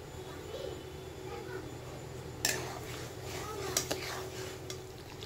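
Smooth paste being stirred in a cooking pan over a gas flame, soft scraping and a few sharp clinks of a utensil against the pan at moderate level, with a low steady hum underneath.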